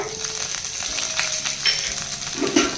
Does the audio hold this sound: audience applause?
no